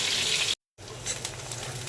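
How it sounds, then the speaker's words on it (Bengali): Sliced onion sizzles and crackles in hot oil in a pan, a steady hissing fry broken by a brief moment of silence before the sizzle resumes. "পেঁয়াজটা ভাজি করে নিলাম তেলের উপরে"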